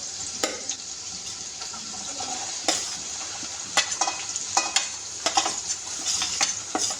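Onion frying in a pan for a rustic mutton curry, with steady sizzling and intermittent stirring clinks and scrapes throughout, close and moderately loud, no talking.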